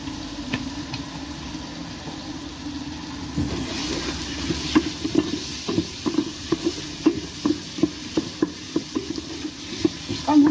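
Spices, tomato paste and oil sizzling in a pan for couscous, a steady low fry with irregular stirring clicks and scrapes growing busier toward the end.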